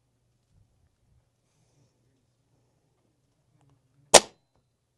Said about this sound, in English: so take another 2 shots.